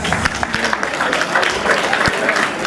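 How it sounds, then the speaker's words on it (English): An award ceremony audience breaks into loud, sustained applause, dense clapping filling the room evenly throughout. "A loud round of applause, please."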